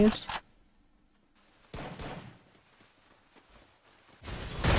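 Gunfire in the shooting video game Free Fire comes in three loud, sharp bursts, one at the start, one in the middle and one at the end, with quieter rattling shots between them.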